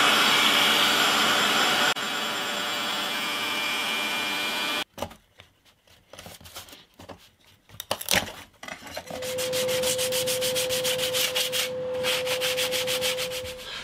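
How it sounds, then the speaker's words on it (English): Steady abrasive rubbing as the wooden back and braces of a vintage parlour guitar are sanded, loud and close for about five seconds, then quieter handling noises and a later humming tone. "I've sanded the back and I've sanded the braces so they're ready to be stuck."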